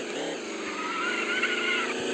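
A car engine in the video game Chicken Gun drones steadily with a buzzy, revving tone, loud and continuous throughout, with no talking over it.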